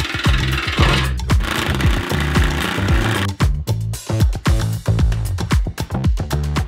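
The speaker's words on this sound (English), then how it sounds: "Aluminum sucks to cut." Aluminum sheet cut with a power tool for a Porsche truck build: a loud, harsh grinding whine that stays steady, then breaks into rapid rhythmic knocking bursts toward the end, with no talking.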